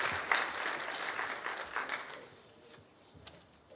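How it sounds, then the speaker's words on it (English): Guests at a political party fundraiser breakfast applaud the team, a brisk round of many hands clapping that thins out and tapers toward the end, with a few scattered claps lingering. "very healthy applause"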